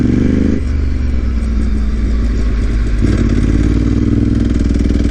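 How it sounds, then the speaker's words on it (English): A motorcycle engine bogging down under throttle while riding on the Yabitsu Pass in Japan, a loud close engine drone that sags and stumbles rather than revving cleanly, with a rough shift partway through and no voices. "It bogged out when I tried to give it the beans."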